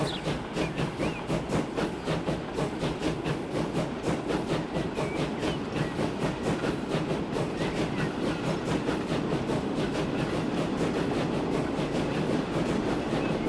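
A steam Pullman train in Transport Fever 2 runs steadily along the rails with a continuous rhythmic clatter and hiss, loud and close, and no voices.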